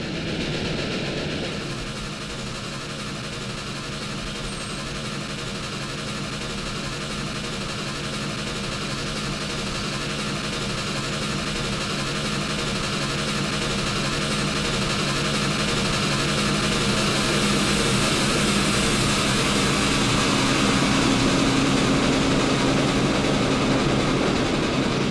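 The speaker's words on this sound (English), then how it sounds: "The 1086 had the train really moving as she stormed past the station at Mount Union" P&B Pacific steam locomotive No. 1086 hauls its train past the Mount Union station in a sustained, steadily building rumble with a rhythmic wheel beat, growing louder toward the end, with no voices.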